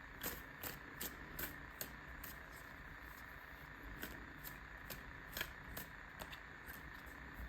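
Tarot cards riffled and shuffled by hand in a quiet room, giving repeated soft flicks and snaps at an uneven pace, faint and close, with no talking.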